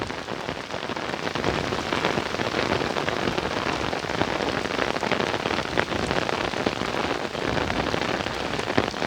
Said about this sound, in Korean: 빗소리 엄청 크네.